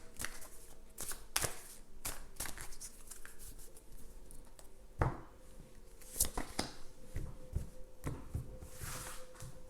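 Tarot cards shuffled by hand in a quiet room, a steady run of soft riffling and sharp flicks, close and fairly faint, with no talking.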